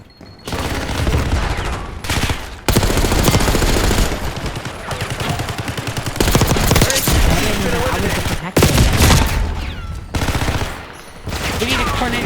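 Rapid, sustained gunfire from a Black Ops 6 firefight aboard a bullet train, dense overlapping bursts nearly filling the whole stretch with only a few short breaks, loud and close.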